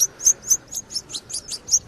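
A canary and goldfinch hybrid songbird sings a rapid run of bright, high chirps, about eight sharp notes in a steady rhythm, close and clear over a quiet background.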